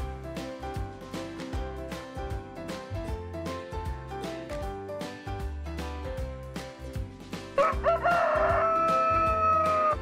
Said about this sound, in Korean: 닭이 소리를 칩니다.